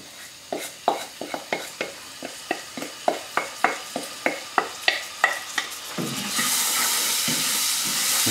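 A spoon taps out a quick run of sharp, evenly spaced knocks, then drained rice hits the hot pan for Indian curried rice and a loud, steady, close sizzling hiss takes over.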